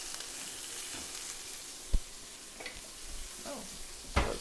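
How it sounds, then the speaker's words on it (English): Onions dropped into a pan of hot chicken fat while braising chicken thighs, giving a steady close hiss of sizzling with a few sharp clinks and scrapes, and no voices. "So I'm going to drop in these onions"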